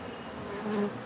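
A swarmed honeybee colony clustered on a roof corner buzzes in a steady close drone, with a brief louder, higher hum as a bee passes near.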